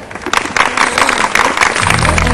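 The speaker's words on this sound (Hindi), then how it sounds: "बड़ी संख्या में ताली हो जाए।" A studio audience at a televised debate on women and family life breaks into applause, a dense burst of many hands clapping close and loud, with a low musical tone rising near the end.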